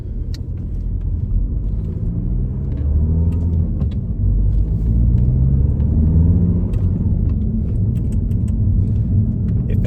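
Audi Q3 with a recently replaced turbo and EGR valve on its first test drive, giving a steady low road and engine rumble throughout with light rattles and knocks from the cabin, no speech.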